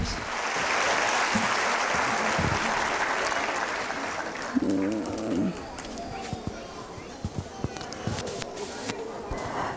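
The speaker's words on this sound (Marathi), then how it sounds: "एकदा त्या टीमसाठी जोरात टाळ्या झाल्याच पाहिजे" Audience applause for a team of volunteers at an indoor community event, a loud wash of clapping that fades after a few seconds, followed by scattered sounds and a brief voice.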